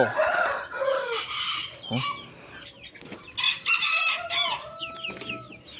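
Rhode Island Red and heritage chickens in a small yard in Tarlac City on a hot day crow and cluck close by, several overlapping calls and clucks in quick succession.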